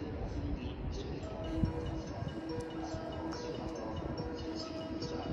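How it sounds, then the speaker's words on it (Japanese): Freight train 5087 passing through Kusatsu Station, a continuous loud rumble and clatter of wagons rolling by at the platform, steady throughout with faint metallic squeals above. "3番乗り場、列車が通過します。"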